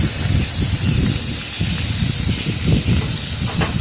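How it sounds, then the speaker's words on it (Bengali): Salt- and turmeric-coated bhola fish frying in hot oil, a steady loud hiss and crackle of oil that runs without a break, with denser low bubbling throughout. "নুন হলুদ মাখানো মাছগুলো আমি একটা একটা করে তেলের মধ্যে দিয়ে দেবো"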